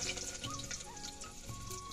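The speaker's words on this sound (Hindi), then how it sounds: "लहसुन को अच्छे से भूनने देते हैं" Garlic frying in hot oil in an outdoor kitchen, a quiet continuous sizzle and bubbling heard close up with no talking.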